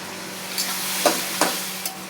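Chicken pieces fry in a pan with green chili, tomato sauce and soy sauce, giving a steady sizzle broken by a few sharp scraping stirs.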